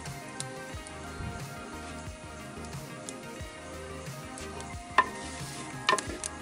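Garlic and ginger frying in a pan while being stirred, a soft sizzle under repeated spoon scrapes and clacks against the pan, with a couple of sharper knocks near the end.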